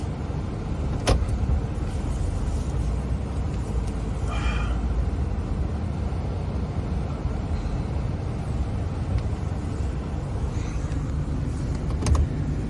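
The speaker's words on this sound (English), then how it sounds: "Making a 3-point turn here because four-wheel drive." A four-wheel drive vehicle rumbles through snow in a three-point turn, its engine a steady low drone with a couple of brief clicks or thumps along the way.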